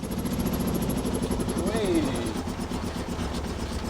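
An abandoned 1980s supercar's engine drones steadily with a low rumble as it drives after 30 years, and a brief rising whine sweeps up midway, fairly close.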